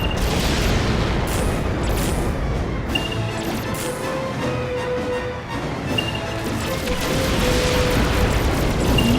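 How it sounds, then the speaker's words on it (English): Continuous laser shooting and rumbling explosions fill a space video game battle, dense and loud throughout with occasional bursts and crashes and no clear talking. "I'm just shooting at things in space and hoping they'll explode"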